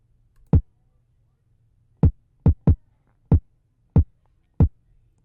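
Kick drum processed with the Smack Attack transient shaper plugin, seven or eight punchy isolated thumps at an uneven rhythm, each sharp and close, with a faint low hum between hits.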